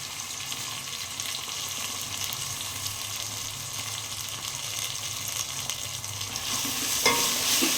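Onion, green chilli, ginger and garlic fry in a pot for chicken dum biryani, a continuous close sizzle with stirring scrapes throughout, swelling louder in the final seconds; no talk.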